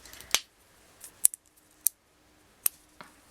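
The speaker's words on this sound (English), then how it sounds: "I'm just going to cut my thread." Small scissors snip through beading thread in a few sharp, crisp clicks, spaced irregularly, close and quiet in an otherwise still room.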